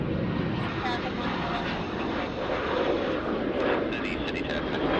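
An aircraft engine roars steadily during takeoff on runway 34 right at Sydney Airport. The broad, loud rumble holds for about five seconds, with air traffic radio voices heard over it.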